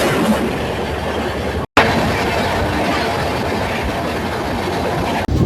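The Vikrama Simhapuri Amaravathi Super Fast Express rolls along loudly, with a constant rumble and rhythmic clatter of wheels on rails, interrupted by a brief cut of silence, recorded from aboard the train.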